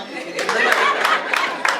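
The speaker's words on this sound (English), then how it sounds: "Clap again" Guests at an 80th birthday celebration clapping together, a short burst of close, lively applause with some crowd chatter and a voice mixed in.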